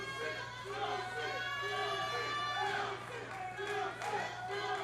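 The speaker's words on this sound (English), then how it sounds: "The crowd chanting Juicy after the Luscious one" Wrestling crowd at an OVW show chants in a rhythmic, repeated pattern across the whole stretch, a dense mass of voices rising and falling evenly, with background crowd chatter underneath.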